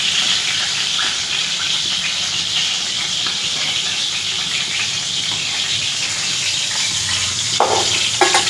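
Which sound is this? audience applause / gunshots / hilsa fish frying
hilsa fish frying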